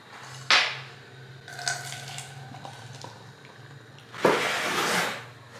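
Beer is poured from a can into a glass: a few light clinks and short splashes come first, then a louder, sustained fizzing pour near the end. The sounds are close and quiet, with no talking.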